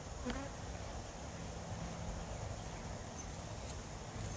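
Dense, continuous buzzing of honey bees flying around and between hives, loud and close, a steady insect drone filling the space with no voices.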